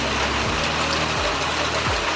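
Steady rain falls outdoors around a freshly assembled kayak trailer box, a dense even hiss of drops close by with a few soft low thumps, and no voices.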